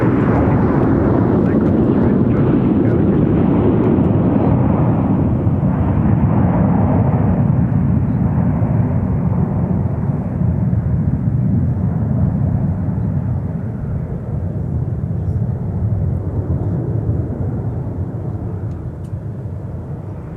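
An Embraer 175 LR jet moving at Minneapolis–Saint Paul airport, a loud steady jet engine roar filling the whole stretch and slowly easing off toward the end as the aircraft moves away.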